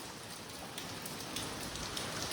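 Rain falls continuously on a trip to the Konkan countryside, a thick, unbroken patter that swells slightly toward the end, with no one speaking.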